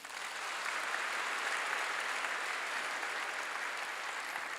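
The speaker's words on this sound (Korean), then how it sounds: "왜 박수 안 쳐요?" A church congregation breaks into dense, sustained applause, many hands clapping together in a steady wash that fills the hall without a break.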